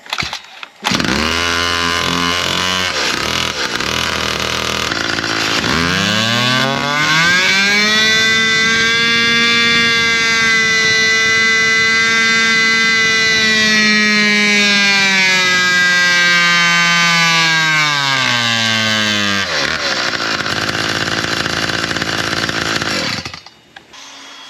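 A small two-stroke engine in race spec, with modified carburetor, no air filter and stock muffler, screams on a dyno, rising to a loud sustained high-pitched wail for about fifteen seconds before dropping off, with no talking.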